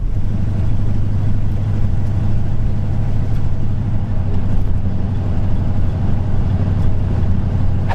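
An old, worn-out El Camino drives along the road, giving a steady engine drone and low road rumble that stays constant and close for the whole stretch.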